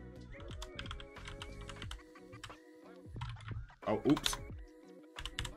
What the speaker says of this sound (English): My typing speed.